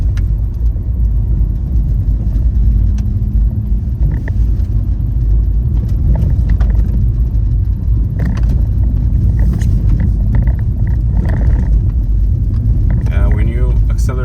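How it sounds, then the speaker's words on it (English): A 2023 Fiat 500 drives on a road, its tires and suspension giving a steady low rolling rumble under a person talking, with occasional small bumps. "you can start to feel the rolling noise, tires, the suspension"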